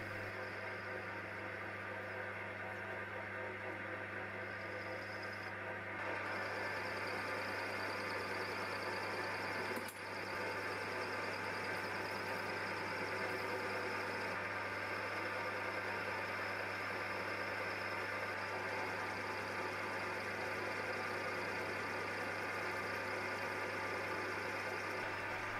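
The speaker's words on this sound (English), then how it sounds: "First, I put a piece of aluminium bar into the three-jaw chuck and machine the external diameters to size." Metal lathe turning an aluminium bar held in a three-jaw chuck, a steady continuous motor hum with a constant whine and faint cutting noise, unbroken throughout with no talking.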